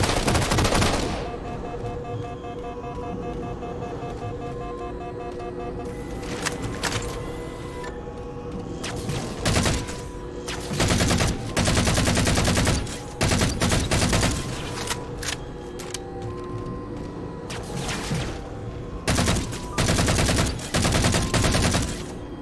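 Heavy gunfire strikes the starboard side of a gondola in Halo 4, loud rapid bursts of automatic fire and impacts arriving in repeated volleys separated by short calmer gaps with a steady mechanical hum underneath.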